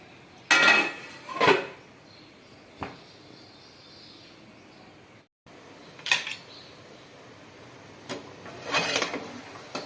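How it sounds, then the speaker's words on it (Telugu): Metal kitchenware clanks and clinks close by as a lid is set on a cooking pot, a few sharp separate knocks spread over several seconds with quiet gaps between them and no talking. "మూత పెట్టేద్దాము"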